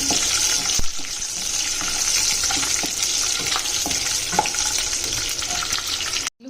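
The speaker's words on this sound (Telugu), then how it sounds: "పల్లీలను మంచి ఫ్రై చేసేసుకోవాలి పల్లీలు మంచి ఫ్రై అయిన తర్వాత పచ్చిమిర్చి వేసుకోవాలి మంచిగా ఫ్రై చేసేయాలి" Peanuts and green chilies fry in hot oil with a steady, loud sizzle and crackle, while a spoon scrapes and clicks against the pan now and then.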